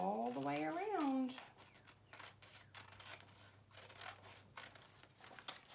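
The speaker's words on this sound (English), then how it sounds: "you're just going to cut on the black line. Just go all the way around." Scissors snipping paper along a traced line in a children's craft lesson: faint, quiet clicks and rustles in an irregular rhythm, after a brief voiced sound at the start.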